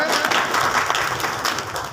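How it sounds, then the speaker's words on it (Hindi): Applause from the audience at a Bharatiya Janata Party meeting in Bhadra, greeting a felicitation with a ceremonial sash; dense, steady clapping with crowd noise and some voices mixed in throughout. "जोरदार तालियां"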